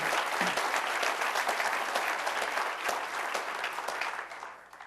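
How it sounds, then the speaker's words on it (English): Audience at a city State of the City address in Covington, Kentucky breaks into sustained, dense applause filling the whole stretch, steady and full before tapering slightly at the end. "So let's give Duke a round of applause."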